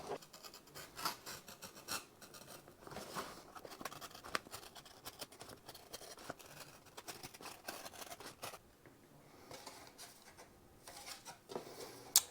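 A knife blade scoring and cutting foam board for an FPV model plane, faint scratchy strokes in irregular bursts with light tapping, close up and quiet with no talk.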